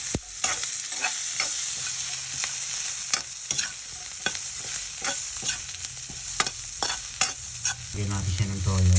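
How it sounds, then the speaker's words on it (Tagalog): Onion, garlic and ginger sizzle steadily in a hot pan while a utensil scrapes and stirs in irregular clicks, a louder hiss rising near the end. "ginisa na natin yung ating sibuyas, bawang, luya"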